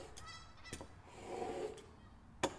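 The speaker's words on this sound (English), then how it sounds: "Got some geese outside." Geese honk outside an open garage door on a cool, rainy day, a few faint, distant calls with a sharper click near the end.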